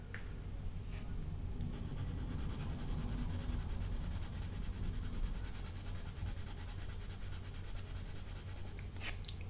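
A coloured pencil, either a Derwent Lightfast or a Caran d'Ache Luminance, is worked across paper in continuous close scratchy strokes, with a steady rubbing texture and no speech.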